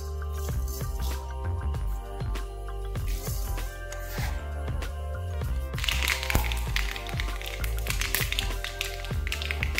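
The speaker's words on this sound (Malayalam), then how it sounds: "കടകൊക്കെ പൊട്ടിക്കഴിഞ്ഞാൽ ഇതിലെ കുറച്ച് കറിവേപ്പിലയും കൂടെ ചേർത്ത്" Mustard seeds splutter in hot oil in a pan, a dense scatter of sharp little pops and crackles running continuously, with faint music underneath.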